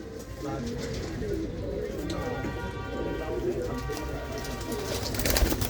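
Female pigeons coo softly and repeatedly nearby, their low warbling calls layered over a busy background with a voice talking.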